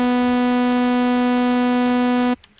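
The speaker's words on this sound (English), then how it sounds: "Now you just hear the two oscillators together." A steady, buzzy FM lead synthesizer drone of two oscillators sounding together, rich in harmonics, held evenly for over two seconds before cutting off abruptly.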